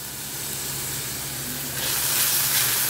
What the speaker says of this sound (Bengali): পেঁয়াজটা ভাজতে ভাজতে এতে আমি আদা রসুন বাটা দিয়ে দিলাম